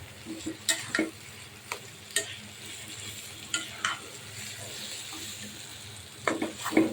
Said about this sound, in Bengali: এভাবে নাড়াচাড়া করে পুরো তেলটা মিশিয়ে দিতে হবে শাকের সাথে